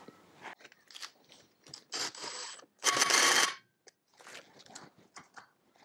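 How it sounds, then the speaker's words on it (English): A 17 mm socket wrench tightening the clutch nut on an IAME KA100 race kart, giving irregular clicking ratchet bursts and metallic scrapes up close, with one louder grinding stretch in the middle. "And then do up the clutch nut. That's just a 17 millimeter socket."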